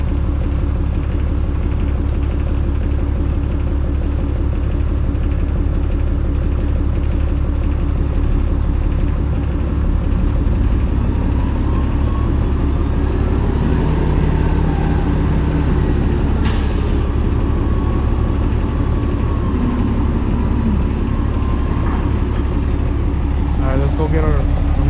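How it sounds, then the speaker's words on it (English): A dump truck unloads a load of dirt at a site in Snellville, Georgia. A loud, steady engine rumble runs throughout, with a brief sharp hiss near the middle. "So let's watch this guy dump his dirt right."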